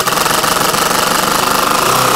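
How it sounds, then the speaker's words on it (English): A cordless impact driver runs in impact mode while driving a screw, giving a loud, rapid, steady hammering rattle up close that continues without a break and with no talking. "But now you hear the impact function."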